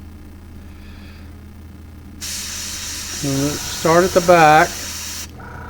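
Spray gun blowing white paint through a shad-dot base stencil onto a square-bill crankbait lure, a steady close hiss of about three seconds that starts abruptly and cuts off, with someone talking over it.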